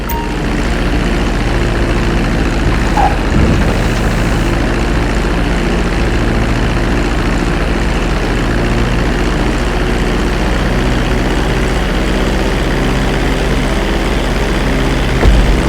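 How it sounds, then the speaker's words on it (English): An airplane engine drones loud and steady while the plane comes in to land on a runway in the GTA V video game, one unbroken roar that lasts the whole stretch. "Start reducing the plane's altitude gradually so you're just above the runway as you approach"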